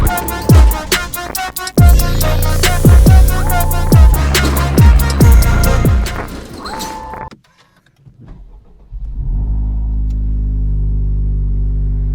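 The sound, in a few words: Honda FL5 Civic Type R engine while driving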